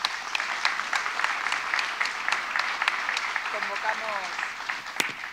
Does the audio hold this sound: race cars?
no